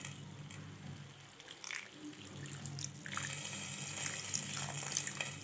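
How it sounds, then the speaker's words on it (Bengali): Water pours and splashes into a pot of pointed gourd and potato curry, a soft, close trickle that grows fuller and brighter partway through. "এখন আমি বেশি না নেড়ে অল্প করে আরও জল দিয়ে দেবো।"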